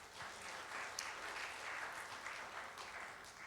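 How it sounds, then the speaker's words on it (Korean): A church congregation at a Sunday worship service claps together in steady, continuous applause that holds at an even level throughout, heard at some distance in the hall. "감사하다고 박수하겠습니다"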